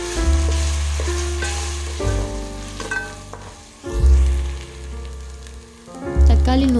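Ginger garlic paste frying with onions for a Dindigul-style seeraga samba chicken biryani, stirred in a pan: a steady loud sizzle with scraping stirs, swelling in bursts, under background music with no talk.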